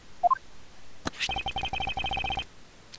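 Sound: phone sound in the video game Miles Edgeworth: Ace Attorney Investigations

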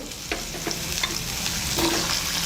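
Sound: pumpkin and carrot pieces frying in a pan

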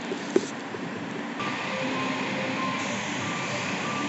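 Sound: limited express Yakumo 18, series 381 train departing

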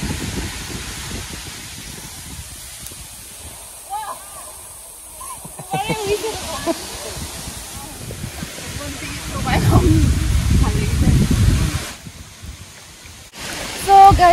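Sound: waterfall

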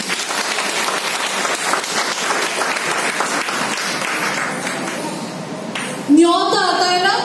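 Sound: audience applause

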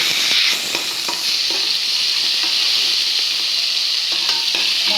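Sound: onions sizzling while frying in oil for veg kurma

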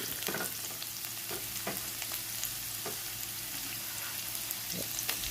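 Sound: small onions frying in hot coconut oil

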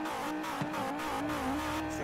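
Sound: five-cylinder car engine revving in video game Forza Horizon 4

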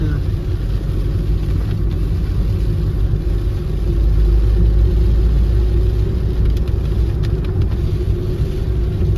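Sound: car driving downhill on hairpin bends

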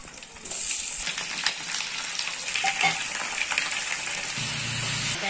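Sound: chicken added to pan with browned onions, sizzling

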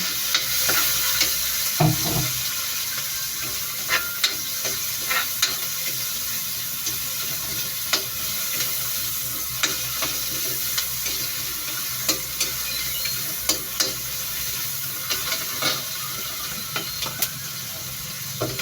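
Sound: stirring and frying tomatoes in a pan

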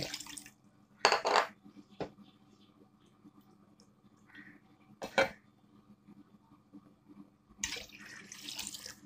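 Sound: water being poured into a pot

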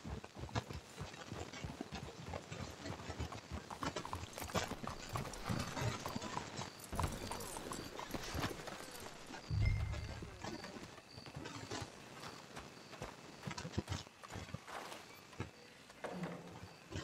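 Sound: horses clip-clopping, from video game Red Dead Redemption 2

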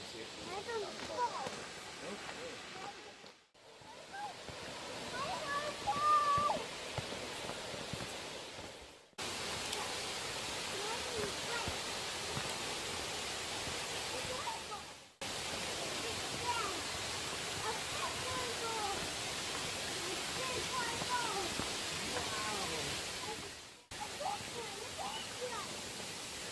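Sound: waterfall

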